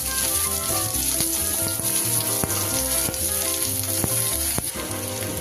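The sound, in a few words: chopped onions frying in a pan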